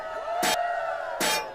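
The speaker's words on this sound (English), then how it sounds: "Everybody's clanking. There's all that armor around the table." Armor clanking as a group gathers around a table at a knighting ceremony: two sharp metallic crashes, one early and one late, loud over a steady tonal hum and a murmuring room.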